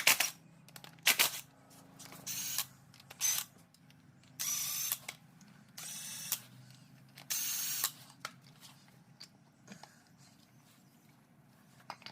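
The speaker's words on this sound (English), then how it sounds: "So we're gonna use 17 mil on those two sliding bolts right there." A hand ratchet works loose the 17 mm caliper sliding bolts on a Ford Edge front brake, giving repeated bursts of rapid metallic clicking separated by short pauses, close and crisp with no talk.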